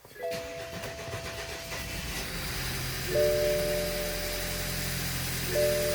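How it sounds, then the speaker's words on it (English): A BMW engine cranks and catches after fuel injector replacement, then settles into a steady idle with a tonal whine and a couple of rises in revs, close to the microphone with no talking. "now we're gonna start the vehicle"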